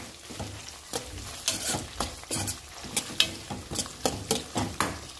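Ingredients for bisi bele bath fry in a pan while a spatula scrapes in quick rhythmic strokes, about a dozen sharp scrapes over a soft sizzle. The sound is close, with no talking.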